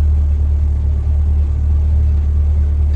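Car engine idling and rumbling steadily in a home garage as the last of several sports cars (Camaro, Corvette, Ferrari, Lamborghini) is parked, a continuous loud low drone with no talk.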